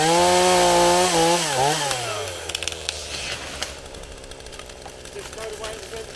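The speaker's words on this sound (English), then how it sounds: "I had my dad show me how to properly use a chainsaw" A small Hyundai chainsaw with a 16-inch bar runs in woodland, idling and revving with a buzzing pitch that falls away as it cuts. Light crackles and knocks of wood follow.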